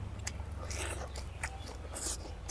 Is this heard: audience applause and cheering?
no